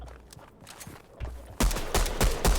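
Video game gunfire, starting as a quieter stretch of scattered shots, then a loud, rapid burst of repeated shots through the second half, close and punchy.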